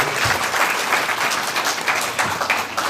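An audience at a session on shelter-inclusive policy in Canada claps steadily in dense, sustained applause that stays even in loudness throughout.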